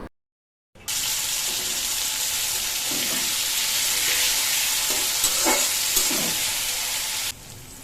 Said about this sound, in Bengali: দেন চিকেনটা আমি ভালো করে ফ্রাই করে